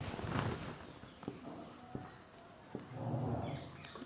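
Chalk or marker scratches across a board in a classroom, with short strokes and sharp taps spaced irregularly, faint and close, against quiet room noise.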